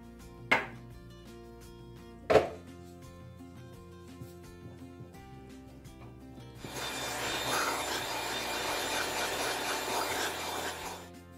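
A whisk scrapes steadily around a pot of tahini pudding, a dense rasping that lasts the final five seconds after two sharp knocks. No voices.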